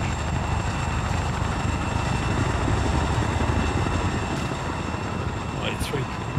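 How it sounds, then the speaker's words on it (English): A helicopter engine in the Arma 3 military game, a loud steady rotor drone that fills the whole clip and sits under faint game noise. "I'm in the chopper, I'm being saved."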